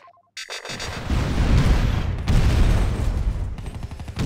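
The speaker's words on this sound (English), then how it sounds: "We're taking fire!" Heavy video game gunfire with booming impacts, dense and loud after a short quiet start, sustained bursts of shots and blasts close at hand with little or no talk.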